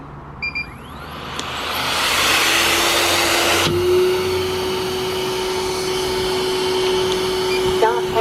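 A window cleaning robot switches on after a couple of short button clicks, its motor rising into a steady, loud suction whine that keeps running without pause.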